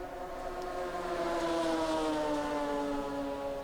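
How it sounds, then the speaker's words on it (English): A Ferrari V12 GT1 race car in a sim racing game at Virginia International Raceway, holding a steady, smooth, tonal high-revving wail that slides gently in pitch, loud and continuous with no talk over it. "Just listen to this amazing Ferrari V12."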